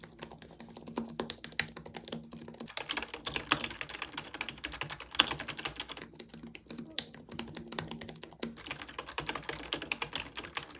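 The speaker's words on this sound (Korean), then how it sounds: "조용한 카페나 사무실 이런 곳에서는 충분히 저소음 타이핑이 가능합니다." Steady, quiet typing on a Logitech Keys-To-Go 2 ultralight portable keyboard with pantograph keys, a dense run of soft, low-noise clicks and taps close by for about eleven seconds, with no talking.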